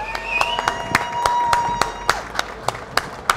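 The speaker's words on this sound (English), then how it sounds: "Arena, give a round of applause." An arena audience applauds at a motoring show, a broad wash of clapping and faint cheers rising under loud, sharp rhythmic percussion hits and music.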